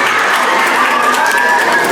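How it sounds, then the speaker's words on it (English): Children applauding at a school annual sports day prize announcement, a steady dense wash of clapping and crowd noise lasting the whole short stretch, fairly loud with some voices mixed in. "Give them a big round of applause, children."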